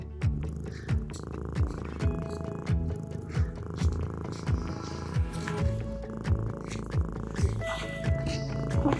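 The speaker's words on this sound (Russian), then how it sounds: "Очень ласковый и гостеприимный мурчащий хозяин." A friendly cat with a coat matching a Bulgarian monastery purrs close up in a steady, rhythmic rumble, each breath marking a soft pulse throughout.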